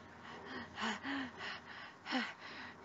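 A narrator imitates panting for breath with several quiet, breathy gasps and huffs in an uneven rhythm, close and soft against a faint hiss.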